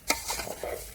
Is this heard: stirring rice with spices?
yes